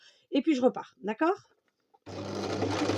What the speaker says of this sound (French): Je fais quelques pas en avant et je reviens en arrière pour sécuriser ma couture